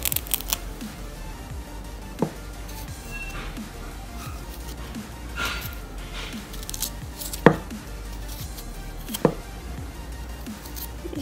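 Fresh ginger root is peeled by hand, heard as faint, irregular scraping and rasping strokes close by, with a few sharper clicks scattered through a quiet background.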